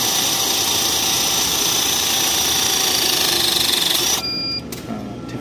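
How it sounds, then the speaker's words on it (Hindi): An automatic punching tool crimps a cable lug with a steady, loud motor whine and rapid rhythmic pulsing for several seconds, then cuts off abruptly, leaving a quieter mechanical hum and a few clicks. "ये जो ड्रिल है, जो पंच है, जो पंचिंग टूल है, ये खुद ही जो है बंद होकर पीछे वो आ जाता है।"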